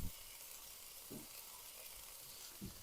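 Mushrooms and onion seasoned with pepper, salt, nutmeg and garlic fry in a pan for potato pancakes, giving a faint, steady sizzle with a few soft pops, close by and without talk.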